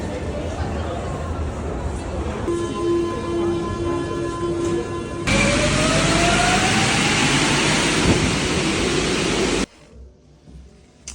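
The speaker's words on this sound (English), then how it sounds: "I got off the train and took the metro to my Airbnb." A metro train ride in Toulouse: a rumbling carriage with a rising electric motor whine as it gathers speed, and passengers chattering in the background, before the noise drops away abruptly near the end.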